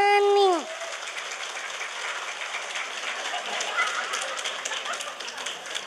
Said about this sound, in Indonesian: Tepuk tangan maning.